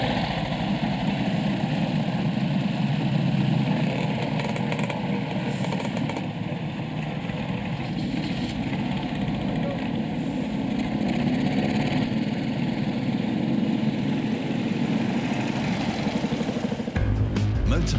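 Several motorcycles idle and run at the gathering for a VMCC club run on the Isle of Man, a steady continuous engine drone throughout, fairly close, with no talk over it.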